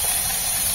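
Smoked bacon fries in hot oil on a camping stove outdoors, giving a dense, continuous sizzling hiss that stays loud and even throughout, with no voices.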